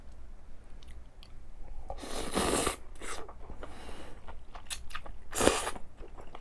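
Spicy cold noodles are chewed close to the mic, with wet, crunchy bites and slurps in uneven bursts and two louder crunches standing out against a quiet room.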